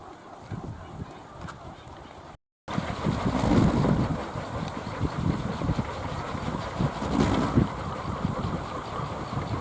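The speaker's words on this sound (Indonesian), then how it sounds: "Anginnya datang sobat nih." Wind blows outdoors in a steady, rough rush that buffets the microphone, broken by a brief silent gap, then continues strongly with gusty swells.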